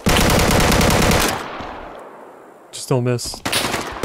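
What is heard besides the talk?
AK rifle firing full auto in the video game Deadside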